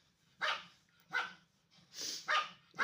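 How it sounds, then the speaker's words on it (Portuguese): A pet dog barking indoors, four separate sharp barks spaced about half a second to a second apart, fairly close against a quiet background. "Esse latido aqui é do meu cachorro."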